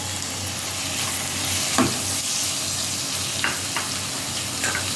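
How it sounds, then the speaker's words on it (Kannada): Chopped tomato goes into onions already frying in a hot pan, giving a steady loud sizzle with a few stirring scrapes and clinks, no voices. "ಈಗ ಈರುಳ್ಳಿ ಫ್ರೈ ಆಗಿದೆ ಟೊಮೆಟೊ ಹಾಕ್ಕೊಳ್ತಾ ಇದ್ದೀವಿ"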